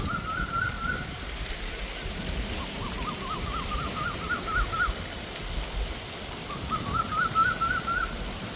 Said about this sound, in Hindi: कितनी प्यारी आवाज़ कोयल की